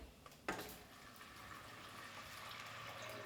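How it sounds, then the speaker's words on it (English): About 800 millilitres of water is poured straight into a pot of rice for muttar pilau, a steady soft splashing rush that starts with a quick onset and keeps flowing quietly and evenly. "So here comes the water, 800 mils, and straight in."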